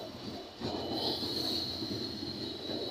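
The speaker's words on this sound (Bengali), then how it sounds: "কত বড় ট্রেন," A long train pulls into Majhgram railway junction in Lalpur, Natore, carrying passengers even on the roof. A steady, loud rolling rumble runs throughout with a thin, sustained wheel squeal above it, swelling slightly as the train comes closer.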